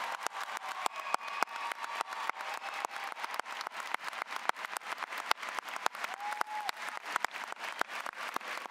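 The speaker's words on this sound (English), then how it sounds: "Let us applaud these students for their future service to our country" A high school graduation audience applauds students heading into military service, with sustained crowd clapping from a large gathering and several sharp, individual claps standing out close by throughout.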